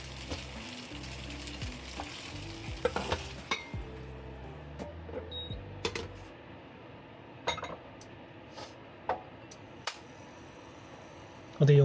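Beef rice noodle rolls fry in a wok with soy sauce, a soft crackling sizzle under clinks and clatters of utensils, quieter and sparser toward the end.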